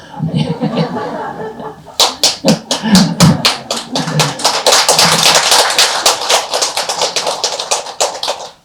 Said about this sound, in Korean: 누가 박수치기 시작한 거요